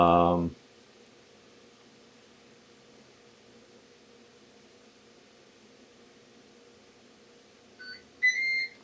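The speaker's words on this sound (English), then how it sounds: "There's the beep." Pressure cooker heating soup gives a short pair of electronic beeps near the end, after a brief burst of sound at the start and a stretch of quiet background hiss.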